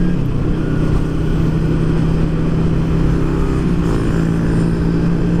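A motorcycle engine runs steadily at close range with a constant low idling drone and no talking over it.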